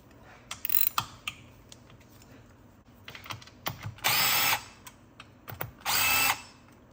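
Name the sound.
removing stiffener plate screws from a 4L60E transmission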